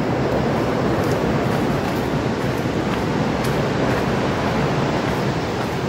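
A swollen stream rushes after heavy rain, a loud, continuous roaring wash of water that stays close and unbroken throughout, with no voices over it.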